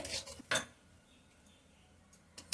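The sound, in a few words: stirring yogurt and spices in a pan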